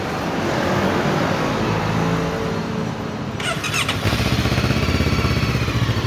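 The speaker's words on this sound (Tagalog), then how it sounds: "Ayan, so ayun yung tunog ng makina." An FKM Expres 500 cc motorcycle engine cranks and catches, then settles into a steady, throbbing idle, close by and fairly loud with no talking.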